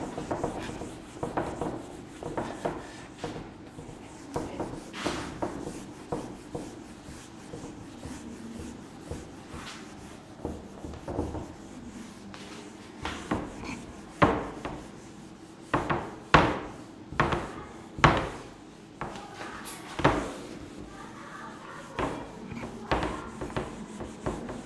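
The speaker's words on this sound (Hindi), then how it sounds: "तो चलिए अब इसको रब करते हैं" A board rubbed clean by hand, with continuous scratchy rubbing strokes and sharper scrapes and knocks over nearly half a minute, close and steady with no talking.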